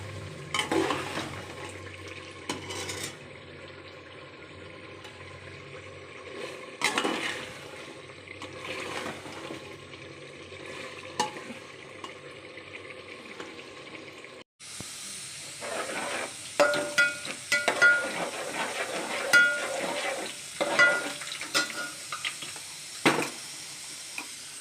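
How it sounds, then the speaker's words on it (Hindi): Onion, ginger and garlic paste being fried and stirred in a pan for a potato gravy, a soft sizzle under scraping stirs, growing louder and busier partway through, with no voices. "अभी मैं इसको हल्का भून के फिर सोच रही हूँ कि थोड़ा गलने के लिए लगा दूँ"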